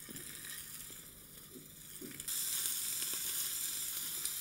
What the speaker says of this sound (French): Alors, notre poêle est très chaude.